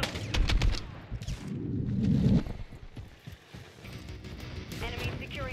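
Video game gunfire rattles in rapid sharp bursts near the start, followed by scattered shots and noisy combat sounds, with someone talking over parts of it.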